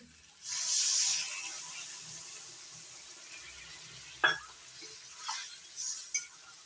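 Potatoes and pointed gourd being stirred with milk in a pan, a soft simmering hiss that swells early then settles, broken by a few sharp utensil clinks against the pan, close and without speech.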